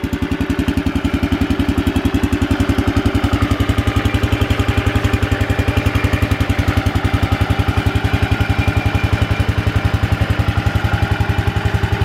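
A small Kohler K-series tractor engine idles steadily and loudly with a fast, even chugging pulse throughout, no voices.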